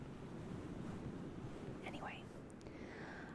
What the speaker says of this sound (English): I hope the water sounds aren't so extremely aggressive